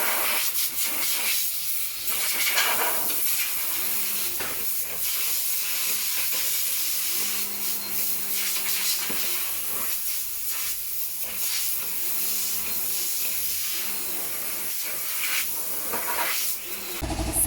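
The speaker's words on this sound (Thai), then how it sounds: "จัดการเป่าฝุ่นความสะอาดแผงหม้อน้ำให้ค่ะ" Continuous loud hiss of compressed air blowing dust off a Subaru XV's radiator in long bursts, with slight variations in pressure and faint mechanical hum underneath.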